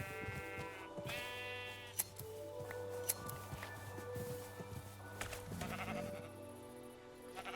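Several high, wavering sheep bleats from the game Prominence 2 ring out over steady game music, with a few clicks and thuds scattered through.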